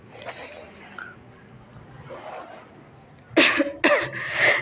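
After a stretch of quiet low murmuring and faint whispering, a person indoors at home lets out a cluster of three harsh, loud coughs in quick succession near the microphone.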